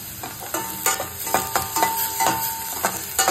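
Beans, cabbage, capsicum and onion stir-fry in a pan for Schezwan rice, with a steady sizzle broken by repeated close scraping strokes of a spatula at an irregular rhythm, and no talking.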